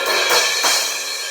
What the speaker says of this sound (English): 16-inch A8X explosion crash sounds like this